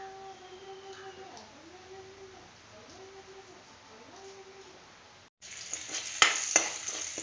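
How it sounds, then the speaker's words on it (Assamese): Chopped onion hits hot oil for cooking daliya (broken wheat), a loud, close crackling sizzle with stirring scrapes that bursts in after a quieter, calmer stretch of background ambience. "এয়া ডালিয়া ভাজিবলৈ পিঁয়াজ অকণ কাটি তেলত ফ্ৰাই কৰি ল'লোঁ"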